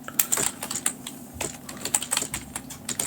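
Rapid keystrokes on a computer keyboard as a line of Python code is typed in VS Code, a dense run of light clicks with short pauses, close and fairly quiet throughout.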